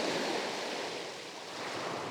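Ocean water washing in and retreating over rocks and sand at sunrise, a steady, soft wash of surf with a slight swell and ebb, mid-distance, with no voices.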